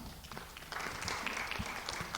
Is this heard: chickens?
no